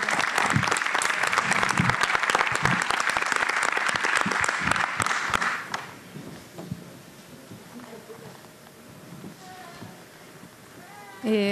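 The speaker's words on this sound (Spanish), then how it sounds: "Un aplauso a la Pola" An audience at a panel discussion on women in architecture breaks into loud, sustained clapping for several seconds, then it fades away, leaving a quieter room with faint movement and low murmurs.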